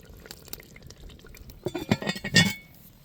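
Bubbling and popping of a lamb casserole boiling vigorously up close in a cast-iron potjie pot over campfire coals, with small clinks and sputters growing busier toward the end.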